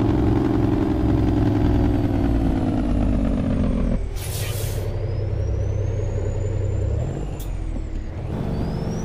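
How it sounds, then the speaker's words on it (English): A truck rumbles steadily in American Truck Simulator, then its trailer air brakes release a sharp, loud hiss, followed by a second brief burst of air a few seconds later. "Trailer brakes for the win."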